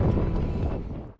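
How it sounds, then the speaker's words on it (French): Steady wind on the Col du Galibier buffets a microphone with a low, rushing roar that fades out at the end. "Et en plus, il y a du vent."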